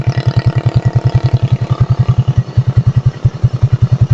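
A motorcycle engine idles close by in a dark spot, its steady low chugging pulses running evenly throughout with no voices.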